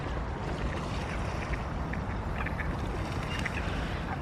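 Ducks on a pond in the rain, quacking intermittently over a steady, wide hiss of falling rain, fairly faint and continuous throughout.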